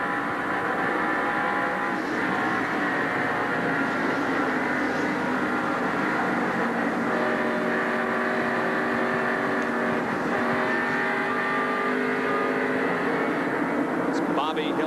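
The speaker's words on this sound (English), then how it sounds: "Listen to the way they work the throttle in a turn 8." NASCAR Winston Cup stock cars roar through a turn at the 1988 Southern 500, a loud continuous layered engine drone with throttle rising and falling, heard with broadcast commentary.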